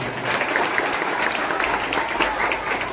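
Enthusiastic applause from an audience at a village Dahi Handi festival, dense and continuous clapping throughout with voices mixed in.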